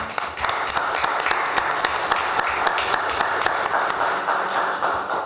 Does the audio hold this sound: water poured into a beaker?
no